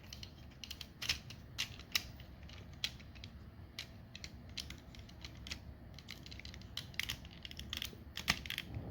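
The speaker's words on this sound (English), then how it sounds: "We're going to take these doors, pull them closed." Plastic toy robot figure doors being pulled shut and clicked together, soft close-up creaks and scattered sharp clicks at low volume.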